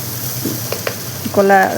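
Continuous sizzling hiss of black cumin frying in hot oil in a wok, with a few stirring clinks and a short scraping sound near the end.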